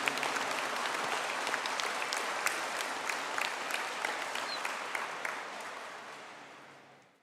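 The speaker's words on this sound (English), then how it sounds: "Can I have a collective round of applause" A hall full of people applauds graduates of a software design with virtual reality and gaming degree at a conferring ceremony, steady crowded clapping that tapers off and dies away near the close.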